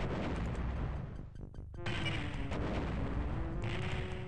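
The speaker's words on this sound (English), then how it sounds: "I don't even know why I'm detonating them all" Explosives detonating in the shooter Star Wars: Dark Forces: loud, dense booming blasts fill the clip, a brief dip near the middle with rapid clicking before the rumbling bursts resume.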